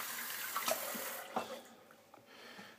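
Tap water runs in a bathroom sink while fingers are wetted before a shave, a soft steady trickle with a few brief splashes.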